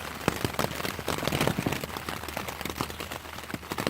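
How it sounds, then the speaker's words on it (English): Heavy rain pelting down in strong wind on the Cape Wrath Trail in the Scottish Highlands, a dense, steady, close patter and rush with no talking. "this is basically like a big wind tunnel blowing up here. A lot of rain."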